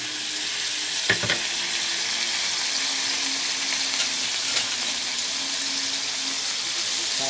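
Bean sprouts sizzle and hiss steadily in a hot pan as light soy sauce goes in, with a couple of brief clinks from a utensil stirring them and no voices.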